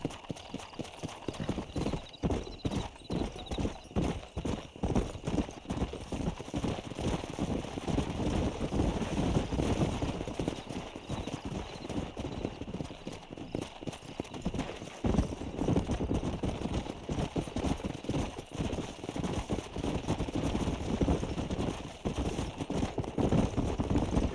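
Dense, steady clip-clop of horse hooves drives a herd along in Red Dead Redemption, loud and continuous with wind and faint whinnies underneath.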